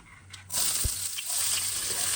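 Whole spices hit hot oil in a curry pot and burst into a bright, steady sizzle that continues close and moderately loud, with a few small clinks.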